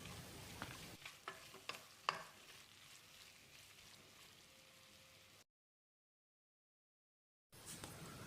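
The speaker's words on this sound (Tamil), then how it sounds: "ஸ்டவ்வில் தீயை குறைச்சி வச்சுட்டு 1 நிமிஷம் இதை நல்லா வதக்கி விட்டுடலாம்" Vegetables stir and sauté in a pan over a lowered flame for moong dal pulao: a steady soft sizzle with several sharp scrapes of a spoon early on, then a brief silence before the frying resumes.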